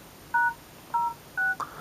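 A Xiaomi M1S phone keypad sounds as *#06# is dialed. Three short, clean, evenly spaced beeps play close by, followed by a brief fourth tone.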